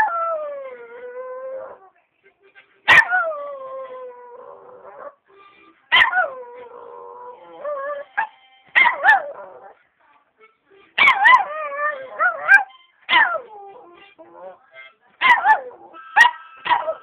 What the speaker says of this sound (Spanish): El perrito canta,